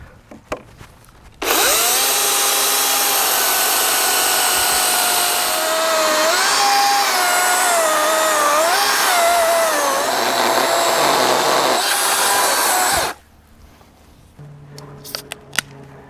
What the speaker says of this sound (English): maybe we will take the electric chainsaw, make another line, go for a minute and a half